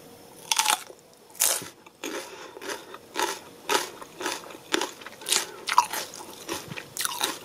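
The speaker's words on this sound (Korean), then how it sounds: "여름에 고추는 손으로 그냥 푹 찍어서 된장 찍어서 드시는 게 제일 맛이 있죠?" A raw summer chili pepper dipped in doenjang is bitten and chewed up close, with loud, crisp crunches that repeat in a steady chewing rhythm and no talking.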